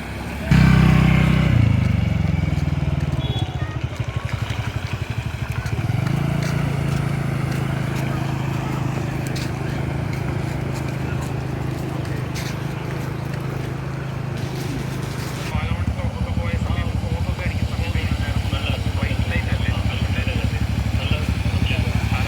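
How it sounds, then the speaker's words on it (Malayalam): A motorcycle riding through floodwater on a road in Thrissur drones steadily close by, its low rumble holding for the whole stretch, with faint voices in the background. "അവിടെ നിന്ന് അറ്റത്തുനിന്നൊരു ബൈക്ക്"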